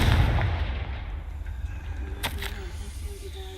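Confringo fire-blast spell in Hogwarts Legacy going off as a single booming explosion near the start, fading into a low rumble with a couple of sharp crackles later, heard alone.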